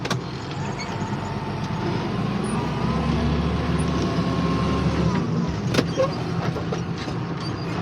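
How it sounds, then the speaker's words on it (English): A truck is shifted into gear and drives off, a continuous engine drone and rolling rumble heard from inside, building slightly midway, with a few clunks near the end. "So I'm going to put it in gear."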